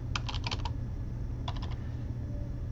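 A computer keyboard clicks through two short bursts of quick keystrokes, a handful of taps each, faint and close over a steady low hum.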